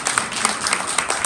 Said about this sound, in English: Let's give you guys a big round of applause.